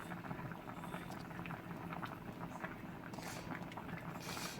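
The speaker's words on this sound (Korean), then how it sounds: "지금 다 끓은 것 같고요" Tteokguk, Korean rice cake soup, boils in a pot as a steady, soft bubbling and simmering that continues evenly throughout, with no talk.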